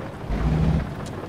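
Rain in the American Truck Simulator driving game, a steady broadband patter with a low rumbling swell in the middle, continuous and fairly loud, with no talking.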